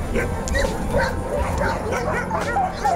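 A Yakutian Laika at a dog show gives repeated yips and short barks mixed with whimpers, close and fairly loud, with people talking in the background.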